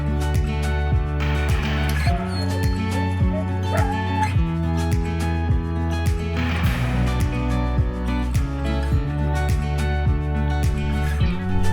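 Sled dogs at the Denali National Park kennels bark and yip in a loud, dense, continuous chorus, with many overlapping barks close by.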